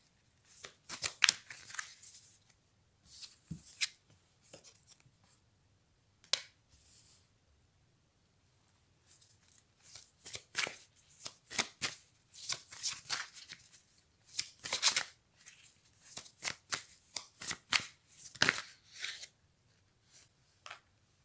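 Cards are shuffled repeatedly for a channeling reading, bursts of rapid riffling and flicking separated by short pauses, close and crisp with no voices.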